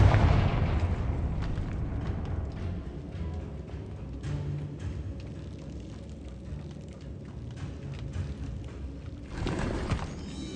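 In the Hogwarts Legacy video game, a Confringo blasting spell goes off with a heavy explosive burst, followed by rumbling, crackling debris and a second swell of impact noise near the end.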